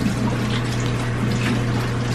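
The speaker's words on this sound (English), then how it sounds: "Washing my hands because we got a lot of eggs to clean up" Hands being washed under a steady running tap, a continuous close hiss of water with no talking, just before cleaning up eggs for a baby Galapagos tortoise.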